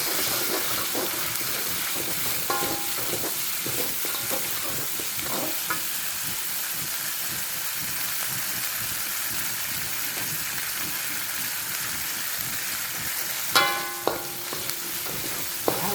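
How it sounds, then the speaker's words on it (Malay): Beef lung stir-fried in a wok with oyster sauce and sautéed spices gives a steady, close sizzle with scraping stirs throughout, plus a brief louder clatter near the end; no one talks. "Jadi dah campur sos tiram dengan ramuan yang tadi yang siap goreng tadi, siap tumis."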